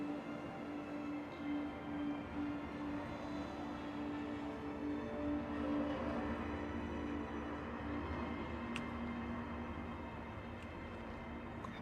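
Onboard hum of a train ride in the video game Star Citizen: a steady low rumble with a sustained whining tone, even and unbroken throughout, with no talk.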